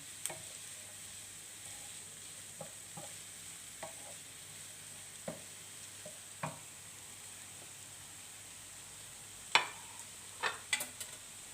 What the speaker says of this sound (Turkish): Şimdi bunları da biraz kavuralım.